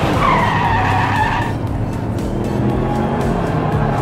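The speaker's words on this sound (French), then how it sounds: "Ouh, drift non contrôlé de la Mercedes." A diecast Mercedes toy race car drifts out of control on a miniature track, letting out a loud, close tire screech that fades after about a second and a half into a steady rumbling roll.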